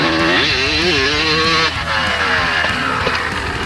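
Honda CR250 two-stroke motocross motorcycle from the late 1990s, its engine revving loud and close in rising and falling sweeps before dropping off, then settling into a sustained high buzzing drone.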